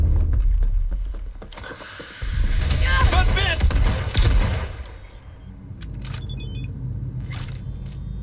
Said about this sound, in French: Pas mal ce flingue.